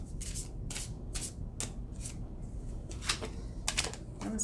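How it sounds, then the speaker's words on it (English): Tarot cards are shuffled in quick, uneven riffles and bursts, close up, with brief pauses between, and no talking. "That was a messy shuffle."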